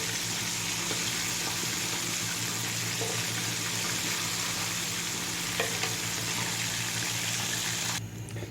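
Chicken broast frying in hot oil, a loud, dense and continuous sizzle with steady bubbling that drops off slightly near the end.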